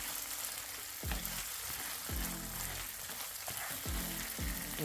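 Chopped onion frying in oil in a big pot, a constant crackling sizzle with a series of low, regular knocks or thumps repeating roughly once a second beneath it.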